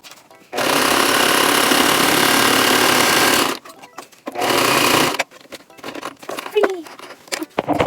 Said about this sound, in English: I literally just continued sewing with the regular zigzag stitch, sewing all the pieces together.